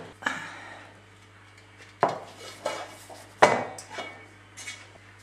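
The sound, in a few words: angel food cake being removed from its tube pan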